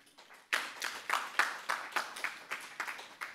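A modest audience at a conference on investment and resilience in the Zambezi river basin starts clapping suddenly after a quiet moment, with distinct, fairly sparse claps pulsing on and tapering slightly over a few seconds.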